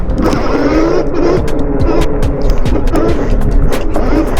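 Times GT54 Pro electric dirt bike ridden on a mountain trail during a wheelie attempt, a loud close rush of wind and tyre noise over rough ground with rhythmic rattling knocks and a rising whine.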